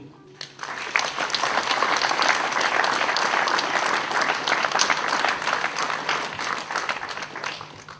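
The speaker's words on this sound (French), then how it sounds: "On peut les applaudir." Applause from an audience at the inauguration of a cultural centre, rising quickly after a soft start into sustained clapping from a crowd, moderately loud with faint voices underneath.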